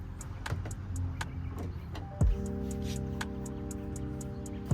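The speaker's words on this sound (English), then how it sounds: "let me close the hatch just to get an idea" A car's rear hatch is closed with a loud thud partway through, amid a steady hum with repeated clicking ticks, and another thump right at the end.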